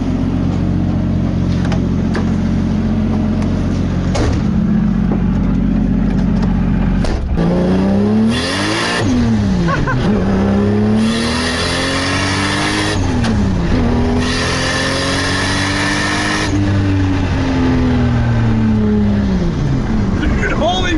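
A Nissan 240SX drift car with a 1JZ engine, a GTX3076R turbo and a CD009 gearbox idles loudly up close, then revs hard several times, each rev climbing and falling, while people talk nearby.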